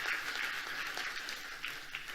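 Church congregation applauding during a Spanish-language sermon, a fairly faint, steady wash of many hands clapping at a distance, continuous throughout with no voice over it.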